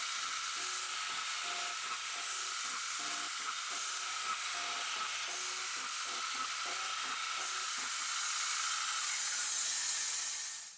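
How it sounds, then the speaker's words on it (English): A CNC machine countersinks a row of holes in a plate with a steady high whirring hiss, broken by faint, regularly spaced cutting pulses and a low constant hum beneath. "it's countersinking all those holes just to make the edges nice and round and smooth"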